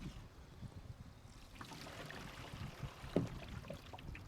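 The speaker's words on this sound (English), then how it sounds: "I went ahead and threw a lot of water in here, get it all going out" Water draining out through a 3-inch RV waste dump valve, a faint, steady trickling and gurgling flow with no one speaking.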